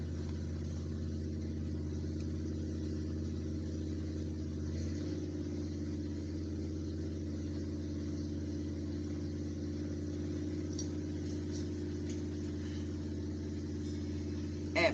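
A car engine runs steadily close by, a low, even rumble that shifts slightly in tone partway through and continues without pause, with no voices over it.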